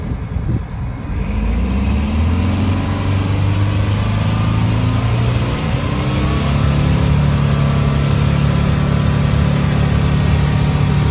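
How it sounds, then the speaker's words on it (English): A straight-piped two-stroke Detroit diesel engine, with a turbo, in a bus, revs up loudly and holds a high, steady roar for several seconds, its pitch rising and staying up, close and without talk. "Go ahead and rev it up one more time."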